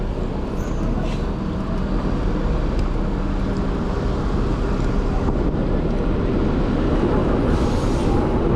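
Steady broadband rumble of wind buffeting on a trail, loud and continuous throughout, with no voices.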